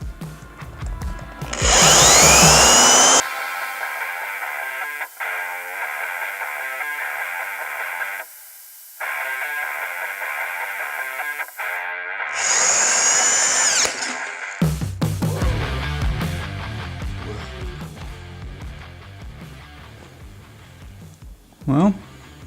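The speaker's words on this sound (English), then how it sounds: "I'm just gonna go ahead and drill this other one and just get this done." A power drill bores into a Ninja 300 handlebar mount, giving loud bursts of whining motor and grinding metal with pauses and bit chatter, along with background music and a voice.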